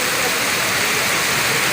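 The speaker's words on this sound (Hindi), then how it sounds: "बारिश का दिलकश मंज़र" Steady rain falls on an outdoor tennis court at the National Press Club at night, making a dense, even hiss of drops across the whole stretch with no clear breaks, fairly loud and close.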